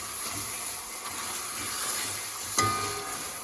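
Pork sizzles in a pan for caramelized pork and eggs as it is stirred, a soft continuous frying hiss with one sharper scrape near the end and no voices.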